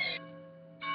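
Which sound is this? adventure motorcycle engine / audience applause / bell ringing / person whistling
bell ringing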